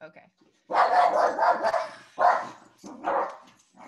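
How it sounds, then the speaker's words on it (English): A dog barks nearby in a few loud bursts during a presentation setup, interrupting the speaker, who also says a brief word. "Sorry, I have a dog."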